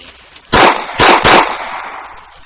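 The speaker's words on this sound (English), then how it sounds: "modern Luger that the Germans used" Three sharp Luger pistol shots from a video game mod crack close by, the last two in quick succession, each ringing out briefly before fading.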